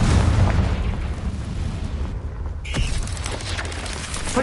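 A Confringo spell explosion in the video game Hogwarts Legacy on PS5: a loud, close, rumbling blast with heavy low-end boom that rolls on, followed by a sharp crackling burst and scattered debris-like clatter.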